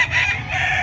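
Fighting cocks at a livestock market in San Carlos City crow and cluck together in a dense, continuous chorus, loud and close, with a low crowd rumble underneath.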